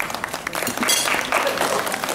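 An audience claps in scattered, moderate applause at a seniors' Christmas tea hosted by members of the legislative assembly in Yellowknife, with faint background murmur throughout.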